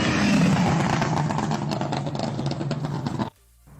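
A Honda car engine fitted with throttle bodies revs hard and loud up close, a sustained raspy intake roar lasting about three seconds before cutting off abruptly into quiet.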